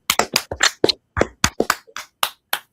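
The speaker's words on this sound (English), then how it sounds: "So everybody, clap it up." A few people clap their hands in an uneven series of about a dozen sharp, close claps with small gaps between them, with no talk.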